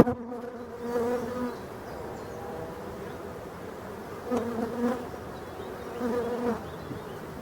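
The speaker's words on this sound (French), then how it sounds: "J'ai des gros pépères de bourdons là-dedans." Bumblebees buzz inside an opened beehive, a steady close drone with several louder swells as individual bees hum nearby; no one speaks.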